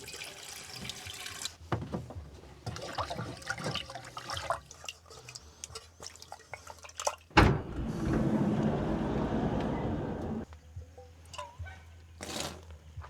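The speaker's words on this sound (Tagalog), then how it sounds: "bubusan ko lang to ng tubig para mawala yung ganyan," Water poured into a non-stick pot to soak off dried-on rice, a loud sustained splashing rush lasting several seconds in the middle, with softer clatter and handling noises before and after.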